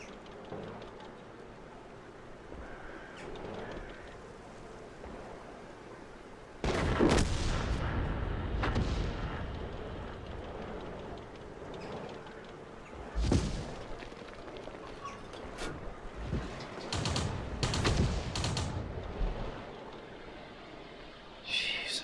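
Booming tank cannon shots from World of Tanks fire several times in irregular bursts over a low, rumbling battlefield background. A few blasts land close together near the end, and a voice talks intermittently underneath.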